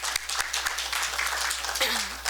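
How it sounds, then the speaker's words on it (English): A room of people at a community forum claps briefly, a short burst of mixed near and far handclaps with a voice heard faintly beneath. "let's give them a round of applause"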